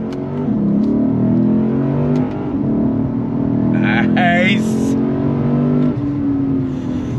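A 2024 Lexus IS 500 F performance sedan accelerates and downshifts, its engine note droning loudly and close, with shifting tone and a brief high whine midway. A voice speaks briefly.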